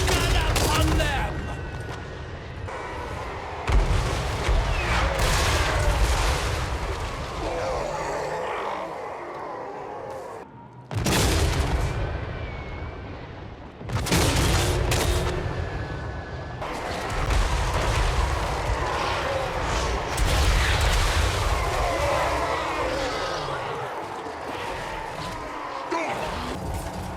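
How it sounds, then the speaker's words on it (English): Battle in Total War: Warhammer III with mortar fire and gunfire against greenskins: dense, loud bursts of booms and crackling shots fill the scene, broken by brief lulls, with distant battle shouts mixed in. "The outgunned greenskins endured as much mortar fire as they could bear before closing the gap."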